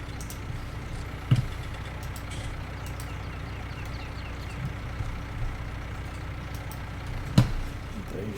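A tractor engine idles steadily in Farming Simulator 19, a low continuous rumble with two brief sharp clicks a few seconds apart, no voices.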